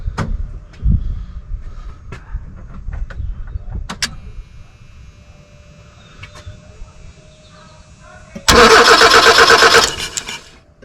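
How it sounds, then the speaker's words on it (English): An old barn-stored car being cranked over: scattered clunks and clicks, then a loud close whine of the starter churning for about two seconds before it stops, without the engine catching. "So we're now going to tick it over and see if this will push fuel through."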